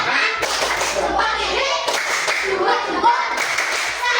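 A classroom of children performing a rhythmic clapping chant, with bursts of group clapping mixed with young voices chanting and talking, loud and close.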